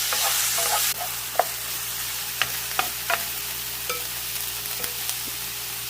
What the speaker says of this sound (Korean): 야채가 잘 볶아지고 있죠?